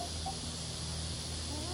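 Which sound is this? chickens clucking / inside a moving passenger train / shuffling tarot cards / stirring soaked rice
chickens clucking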